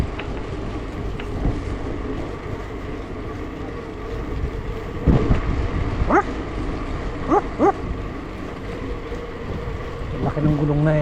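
Stray dogs bark in a run of several yelps and barks at mid-distance outdoors, heard over wind buffeting and a steady background rumble.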